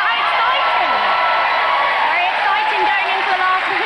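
Loud, dense applause and cheering from a large studio audience at a ventriloquist challenge show, continuous throughout with whoops and excited voices mixed in.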